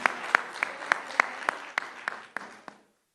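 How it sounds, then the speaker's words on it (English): A small audience at a live News9 Global Summit in the UAE gives a short burst of applause, about ten distinct loud claps ringing out in quick rhythm and dying away within three seconds. "one more round of applause for the gorgeous Nargis Fakhri"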